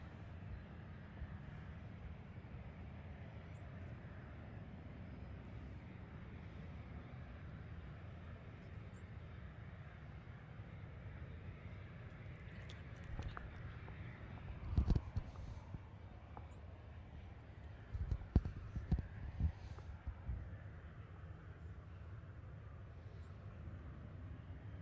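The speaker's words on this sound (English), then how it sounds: "Snowbird one of two is currently taxiing on the runway." Snowbirds jet aircraft taxiing on a runway at Kamloops make a faint, distant, steady engine rumble that holds throughout, with a few brief louder thumps and clatters past the midpoint.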